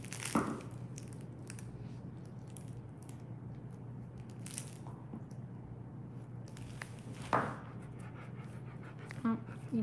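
A Bernese mountain dog pants steadily and close by, a continuous rapid breathing rhythm with a few louder shuffles and bumps, while a person speaks quietly in the background.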